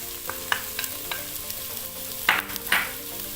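Browned onions sizzle in an electric pressure cooker as green bell pepper is added and stirred, a steady soft frying hiss broken by several scraping stirs and clinks close by.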